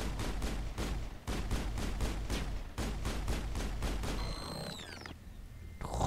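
Sci-fi rifle fire from the player's gun in Mass Effect: a loud, rapid stream of evenly spaced shots with a few brief pauses, then a rising electronic whine as the firing stops.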